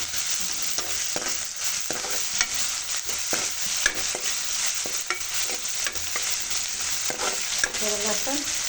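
Ginger garlic paste frying with reddened onions in a little oil, a steady close sizzle broken by intermittent scraping stirs and spoon knocks against the pan throughout, with no talking.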